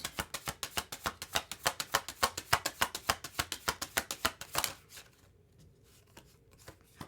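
Tarot cards being shuffled and drawn, a fast run of crisp riffling slaps in steady rhythm for about five seconds, then near silence with one faint tap at the end.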